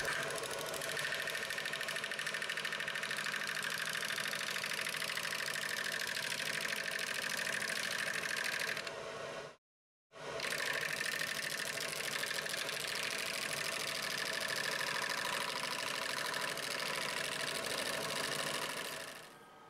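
Wood lathe turning a natural edge crotch bowl, steady droning motor hum with a constant whirring tone from a light tool cut, close and continuous, broken by one brief silent gap midway.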